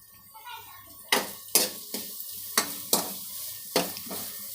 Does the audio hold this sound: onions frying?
yes